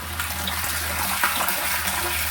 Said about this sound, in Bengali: স্টোরেজ ট্যাঙ্কিতে কিন্তু আপনার ফিল্টার হয়ে পুরো ফ্রেশ জলটা কিন্তু আসছে